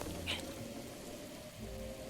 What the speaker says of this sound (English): Oh, it's also raining, therefore climbing in general doesn't work well.